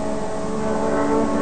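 Ford Sierra Cosworth race car engine at a British touring car race, a steady loud harmonic drone held at high revs, blended with other cars' engine noise throughout without speech.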